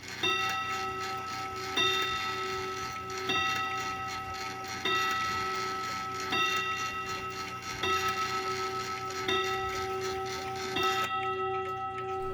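An early 1900s Waterbury tambour mantel clock ticks steadily and close by, its crisp metallic ticks falling in a slightly uneven, out-of-beat rhythm over a quiet room.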